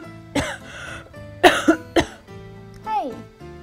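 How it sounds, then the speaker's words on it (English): A single sharp, close cough from someone calling in sick opens the clip, followed by a voice speaking a brief phone greeting. "start with a cough"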